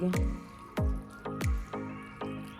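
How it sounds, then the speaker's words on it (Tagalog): Water poured from above into a cooking pot holding green chili, garlic, ginger and onion for fish paksiw, heard as several sharp splashing glugs at irregular intervals over a running trickle, close by. "Ngayon naman po ilalagyan ko po ng tubig."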